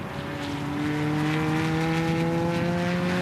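A Peugeot 206 race car in a Combined Sedans race at The Bend circuit drones steadily at high revs, a sustained engine whine holding constant pitch and loudness from mid-distance with no talk over it.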